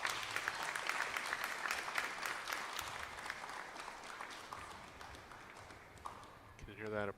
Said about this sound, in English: Can you hear that applause in the background?